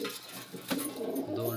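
A pet pigeon coos softly in a short, low, breathy call, faint and close, with a voice murmuring quietly in the background.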